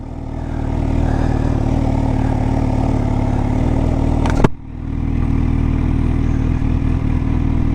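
Kawasaki H2 motorcycle engine held on launch control, a loud steady close roar that cuts sharply with a brief knock midway, then resumes at a slightly lower, rougher drone.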